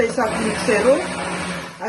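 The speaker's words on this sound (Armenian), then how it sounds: "միքսերով մի հատ անպայման խառնեք" An electric hand mixer whirs through vanilla cream for a French pastry, a steady close motor drone with someone talking over it throughout.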